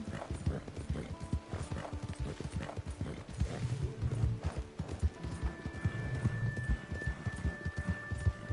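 Horse hooves clip-clop steadily in the video game Red Dead Redemption, with occasional whinnies, a continuous mid-level gallop rhythm that runs throughout with little talk over it.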